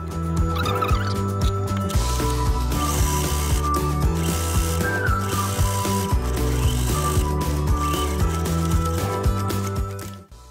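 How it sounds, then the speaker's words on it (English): A sewing machine runs steadily, stitching French seams along umbrella fabric being refashioned into a parasol, its dense mechanical whir continuous for about ten seconds with faint musical tones underneath and no talking. "I'll first have to sew my fabrics together with the wrong sides facing each other"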